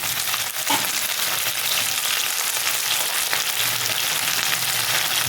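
Ginger paste sautéing in a pan for Bengali shukto gives a steady, dense sizzle with faint stirring scrapes and a brief clink, continuous and close with no talking.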